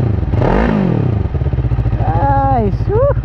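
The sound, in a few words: motorcycle engine idling and revving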